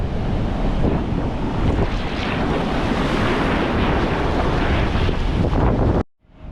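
Morning surf and sea wind on Mae Rampueng beach in Rayong: a steady, loud roar of breaking waves with wind buffeting the microphone, holding constant for about six seconds before cutting off abruptly.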